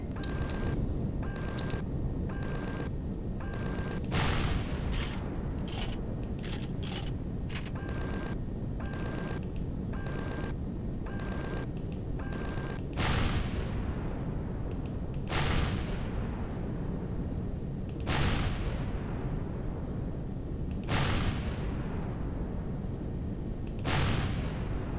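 Weapon fire at Xirax defences in the Empyrion space game: repeated heavy blasts boom out every few seconds over a constant roaring engine or wind hum, with a fast rhythmic tone pulsing in the first half.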